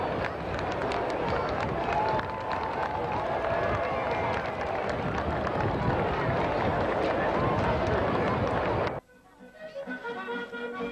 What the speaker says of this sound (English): the crowds give the Queen a big cheer after the signing of the register